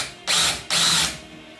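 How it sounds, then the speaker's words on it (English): Two short bursts of a power drill boring out 5/32 rivets on the soft top frame of a 2002 Mazda Miata, each lasting under half a second with a brief pause between, close and loud with no talk. "But we're just going to drill these two rivets out here."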